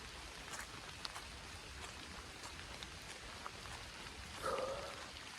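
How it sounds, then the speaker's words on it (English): Soft, steady patter of light rain falling beside a river over a faint hiss, with an occasional distant bird chirp. "I do like walking in the light rain because it sounds so nice."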